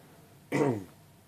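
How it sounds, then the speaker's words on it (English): A single short, rough throat-clearing cough from someone with a sore throat, up close, loud and brief against a quiet room. "Apologies for the coughing all the time."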